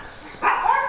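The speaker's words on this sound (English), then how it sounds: "Shut that dog up before I go over and kill it." A dog barks loudly in a single sudden burst that trails into a whine, heard indoors among people watching an American football game.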